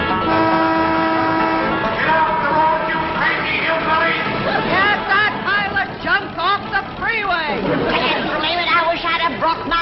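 Several car horns honk in overlapping toots on a freeway over a busy mix of voices and chatter, loud and close, with steady traffic noise throughout.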